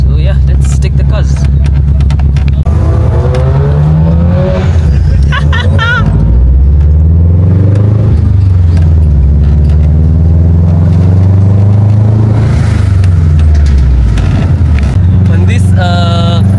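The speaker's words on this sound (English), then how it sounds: "you guys can hear the flutters of the GC8, but on these back roads you hear the Tomei really well and the HKS BOV" A Subaru GC8 STI turbo car with an HKS blow-off valve drives on back roads, its engine loud and close as it revs, rises and falls between gears, with turbo flutter and valve hiss bursts.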